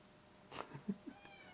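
A cat gives a short, quiet meow, followed by a couple of soft chirping sounds in an otherwise quiet room.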